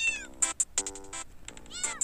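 A cartoon cat meows in Super Cat Tales II, several quick bright meows in a playful sequence with bell-like chimes between them, clear and close.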